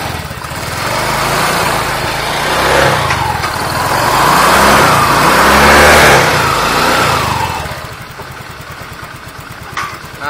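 A Yamaha Nouvo 6 scooter engine with weak compression revs up and down in a couple of rising and falling swells, loud and close, then drops back toward idle.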